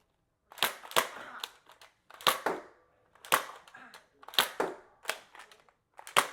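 Two Adventure Force Desperado toy blasters fired in rapid alternating bursts, a dozen or so sharp snapping cracks in uneven clusters with brief gaps between them, close and loud with no talking.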